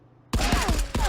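Rapid M1A1 Para submachine gun fire from the video game Marauders, aimed down sights: silence, then a sudden loud burst of about four sharp shots with ringing tails, a brief gap, and another shot.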